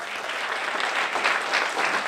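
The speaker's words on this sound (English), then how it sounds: "Please give a welcoming round of applause for Mark Tyrrell." Steady, dense audience applause welcoming a lecturer onto the stage at a conference talk, continuous clapping with no pauses, fairly loud and close.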